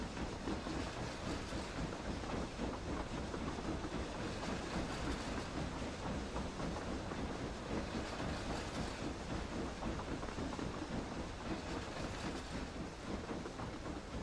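A train passes in the video game Book of Travels, a steady, dense rumble with rolling clatter that holds at an even loudness throughout, with no voices.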